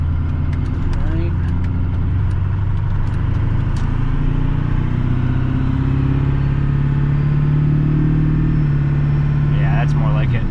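A Ford 7.3L Powerstroke diesel truck on a custom chip tune pulls hard through its automatic gear changes, heard from inside as a loud, steady engine drone whose pitch climbs and then steps down at a shift late on.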